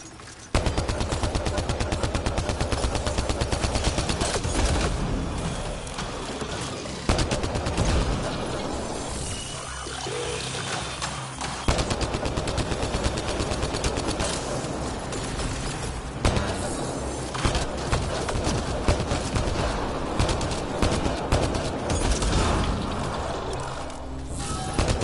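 Rapid gunfire from a shooter in a video game, with dense machine-gun bursts and clattering mechanical noise running loud and nearly continuous throughout.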